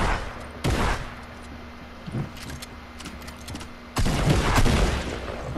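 Gunfire from a Fortnite battle royale duo match: a few sharp, loud bursts of shots with quieter pops scattered between them, and a dense stretch of firing toward the end.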